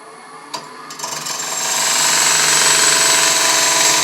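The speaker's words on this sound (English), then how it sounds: "Now I'm going to go ahead and use a 1/8 inch parting tool." A 1/8 inch parting tool cuts into a gnarly piece of dogwood spinning on a wood lathe. A couple of sharp taps come first, then a loud, steady broadband scraping builds and holds close up.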